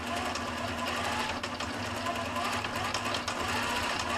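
Sewing machine running steadily on a short stitch setting, stitching tiny curves in a quilt, a continuous close whir with faint talk underneath.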